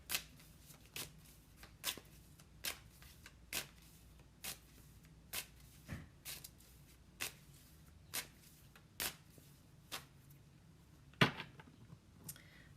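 Cards for a personal card-pulling reading being shuffled in repeated short riffles, about one burst per second, crisp and close, with a louder flurry near the end; no talking.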